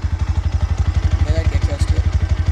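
Bajaj Pulsar NS160 motorcycle idling at around 1500 rpm, its exhaust giving a steady, close, rapid thumping pulse that holds even throughout with no voices.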